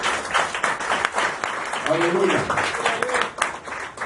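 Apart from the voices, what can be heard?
church congregation applauding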